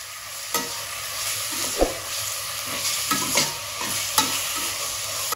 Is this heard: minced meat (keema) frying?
yes